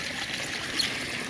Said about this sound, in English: as you can see, the water's flowing freely and looking good.